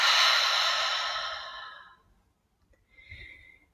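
A long breath exhaled out through the mouth during guided meditation, a close, soft airy whoosh fading over about two seconds, then silence and a short faint breath at the end.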